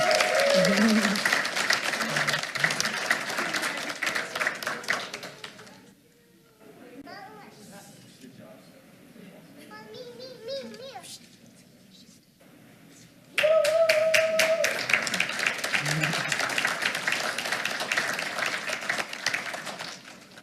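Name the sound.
applause at a school board meeting award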